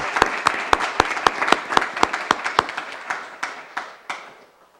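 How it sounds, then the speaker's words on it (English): Applause at a town council meeting honouring theatre fundraisers, sharp distinct claps from a small audience at a steady rhythm, thinning out and fading toward the end. "So we owe them a big round of applause again"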